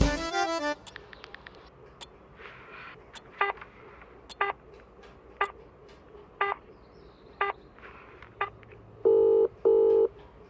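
A phone keypad sends a rapid burst of tones, then about a dozen separate dialing beeps spaced irregularly, ending with two longer tones, all clear and close over a quiet background.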